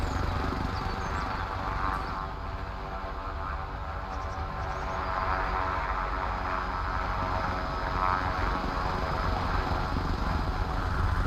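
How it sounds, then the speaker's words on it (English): Helicopter engine and rotor noise in the video game Arma Reforger during a competitive 10 vs 10 match, a loud steady drone filling the whole stretch without pause. "I think Grandmaster, because of the helicopter noise, missed the car coming in"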